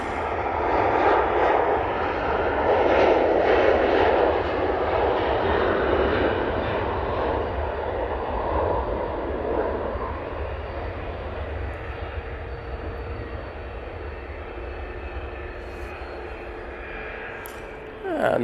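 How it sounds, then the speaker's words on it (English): Jet2 Boeing 737 taking off at Manchester Airport, a loud sustained engine roar that gradually fades as the aircraft climbs away. "that 737 is off to Antalya for Jet 2"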